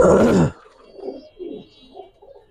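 One loud burst of pigeon sound at a pigeon farm gives way to several soft, low coos that come in short repeated pulses, close by and quiet.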